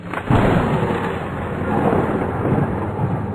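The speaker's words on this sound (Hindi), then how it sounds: "बिजलियां जोर जोर से कड़क रही थी" A loud rumble of thunder during heavy rain at night rolls in with a sharp onset, then a long low growl that lingers and swells before fading slightly.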